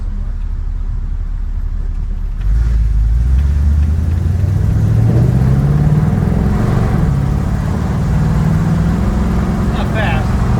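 A 1970 Plymouth Cuda that sat in a carport for 30 years runs with a low, steady engine rumble that swells into a rising drone, close and loud, with people talking over it.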